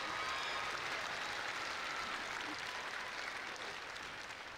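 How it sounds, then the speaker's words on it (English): A crowd at the Showquest 2019 school performance event keeps up an even, continuous patter of applause for Pinehurst School's act, heard faint and distant throughout. "Give them one more round of applause."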